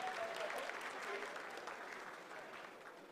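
Sustained applause fills mission control during the Chandrayaan-3 lunar landing's vertical descent phase, a broad roomful of clapping that gradually eases, with a voice speaking over it.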